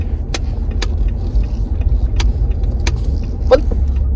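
Inside a moving car there is a steady low road rumble with a few sharp interior clicks and taps, and no one speaks.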